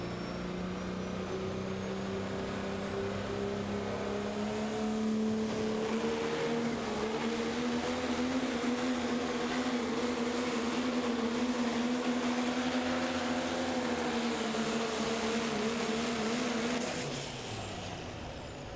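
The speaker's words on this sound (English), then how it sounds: "Tug Toy is the name of the next Dodge coming up here out of Villa Grove, Illinois" A Dodge diesel pickut truck named Tug Toy, from Villa Grove, Illinois, roars down the track in a pro stock diesel pulling run at Terre Haute, its engine droning loud and steady, rising in pitch, then cutting off near the end.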